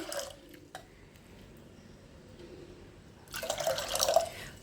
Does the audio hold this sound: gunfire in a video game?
no